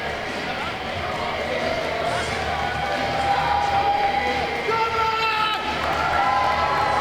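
An indie wrestling crowd at a live show cheers and applauds as a wrestler heads to the ring, a loud continuous roar with whoops and clapping, while a commentator talks over the noise.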